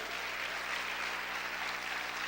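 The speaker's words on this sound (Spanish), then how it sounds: "Vamos a aplaudir fuerte al Rey." Church congregation applauding the King during a sermon, a steady even wash of clapping, faint and distant, with no voices over it.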